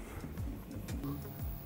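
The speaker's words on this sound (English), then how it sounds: "Got the 3D printer going." A 3D printer runs through a long print, its stepper motors giving a soft, rhythmic whirring with repeated low pitch-sweeping moves and faint ticks, steady and close.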